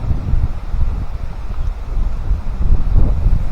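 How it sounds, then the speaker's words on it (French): Strong wind gusts over the microphone at an autumn campsite on an island in the river, a loud, close, continuous rumble that swells and eases with no voices. "Et voilà, il y a beaucoup de vent."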